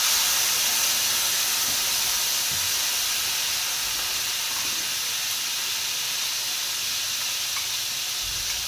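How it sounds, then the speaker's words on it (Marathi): Finely chopped tomato hits hot mustard seeds in a pan, giving a loud, steady sizzle and hiss that goes on throughout with no talking. "मोहरी आहे टाकूया बारीक चिरलेला टोमॅटो"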